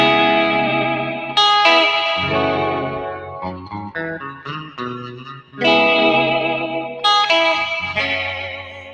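An electric guitar rings out with big surf-style tones, drenched in reverb and echo, playing loud sustained chords and quicker picked phrases that swell and decay, with no talking.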